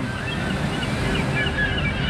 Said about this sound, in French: Et plouf.